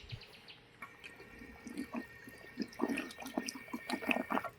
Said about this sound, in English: And the tap below works really well for filling bottles.